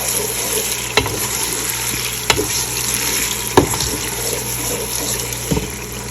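Tomatoes with ginger garlic paste frying in a pan, a steady sizzle with occasional clinks of a spoon stirring, close and continuous with no talk.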